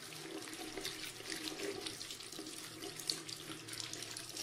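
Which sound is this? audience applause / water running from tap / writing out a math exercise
water running from tap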